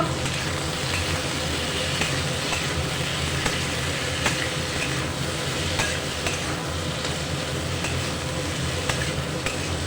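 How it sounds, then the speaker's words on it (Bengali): Spring onion greens, green tomatoes and eggplant fry in a pan for a vegetarian curry with dried lentil dumplings, giving a steady, close sizzle with faint scraping stirs and no voices. "সব সবজি আমি আর কিছুক্ষণ ভেজে নেব"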